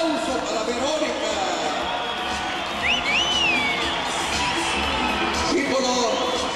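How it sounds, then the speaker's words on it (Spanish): A crowd cheers, whistles and shouts steadily through a lucha libre wrestling event at an arena, continuous and fairly loud, with an announcer's voice over it. "Un aplauso para Verónica."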